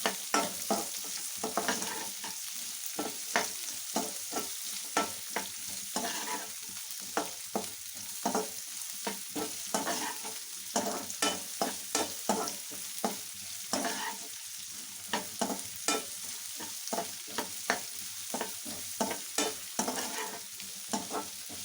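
Onion fries in a pan for brinjal curry, a steady close sizzle with rhythmic scraping strokes of stirring running throughout, no voices.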